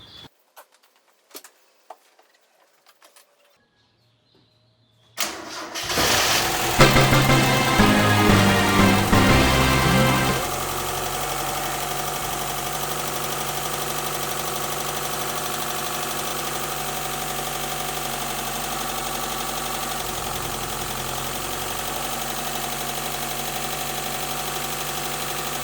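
A custom-built Mazda Miata cranks over after a few quiet clicks, catches and revs briefly, then drops into a steady, loud idle that runs on without any talking.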